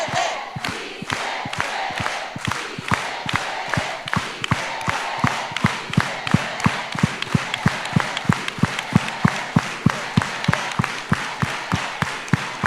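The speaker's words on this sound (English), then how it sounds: "let's all do it with an organized hand clap" Rhythmic, synchronized hand clapping from an audience at a college Q&A with Dolores Huerta, steady evenly spaced claps across the whole stretch with crowd noise behind them.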